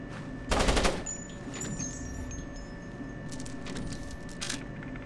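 A cannon fires in the Splinter Cell video game, a short harsh burst of gunfire followed by a second, fainter burst, over a steady low machine hum with no talking.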